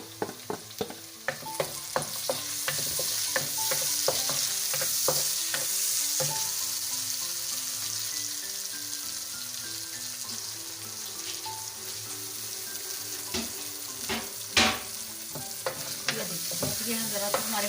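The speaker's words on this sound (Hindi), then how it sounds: "ये हम ज़रा सा हमारे मसाले भून जाते हैं" Spices with tomato and onion fry in hot oil for a potato and drumstick curry, a steady close sizzle with frequent sharp clicks and scrapes of a stirring spoon throughout, no voices.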